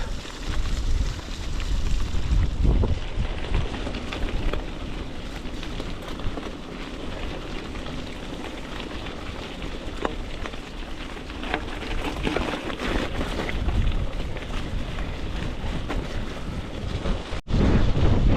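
Strong headwind roars into the microphone on an endless straight road, a steady loud buffeting with gusts throughout and no talking.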